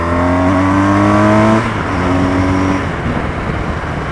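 A motorbike accelerates hard while overtaking, its engine note loud and close with rising harmonic tones for about a second and a half before dropping into a rougher, broader roar as the gear changes.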